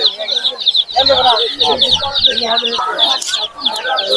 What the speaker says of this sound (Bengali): তাহলে এটা কিসের বাচ্চা মুরগির বাচ্চা